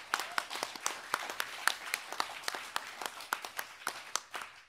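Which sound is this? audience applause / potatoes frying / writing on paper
audience applause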